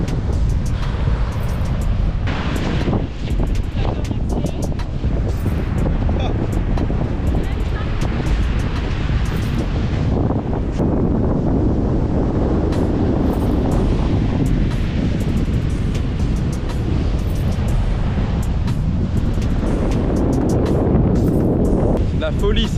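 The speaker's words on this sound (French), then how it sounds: "Il y a beaucoup de vent." Loud, constant wind roars across an open sandy beach on Phillip Island, buffeting the microphone with continuous rumbling gusts, while someone talks at intervals beneath it.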